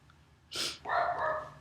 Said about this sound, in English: Excuse my dog, I apologize for that in the background.